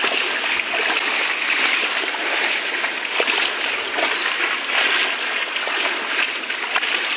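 Heavy monsoon floodwater pours over the new Kirlos bridge in Malvan, Sindhudurg, a continuous close rushing roar with occasional splashes and sloshing.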